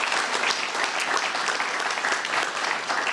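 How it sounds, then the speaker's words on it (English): Audience applause at a Guide Dogs for the Blind graduation ceremony, steady and fairly dense clapping throughout, with no talking over it. "a round of applause for all of our puppy raisers at Guide Dogs for the Blind."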